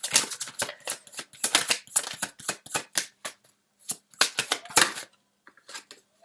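Tarot cards being shuffled and drawn, heard as rapid bursts of crisp riffling and snapping that come close together, then a few lighter taps as cards are pulled, with no talk.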